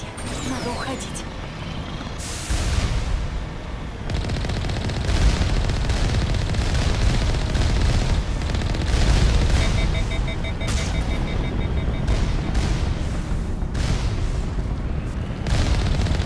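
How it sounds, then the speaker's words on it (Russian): A cannon fires in Mass Effect Legendary Edition on asteroid X57, sending heavy booms through a loud, dense wash of in-game rumble and effects that stays strong for the whole stretch. "Пушка. Пушка."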